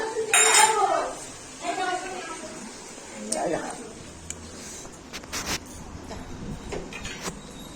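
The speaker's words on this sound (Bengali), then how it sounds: "পকোড়া ভাজছে একদিকে আর একদিকে মাংসটা বসিয়ে দিয়েছে" Pots, pans and cutlery clatter and clink in a kitchen while pakoras fry and meat cooks, with scattered sharp knocks over a low background and people talking.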